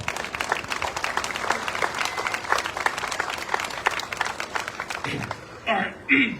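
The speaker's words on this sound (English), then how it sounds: "give Brian a big round of applause" A crowd at the Jackson Apple Festival's Red Coat Club presentation gives Brian a steady round of clapping and cheering, dense and sustained before thinning out near the end, where a voice briefly cuts in.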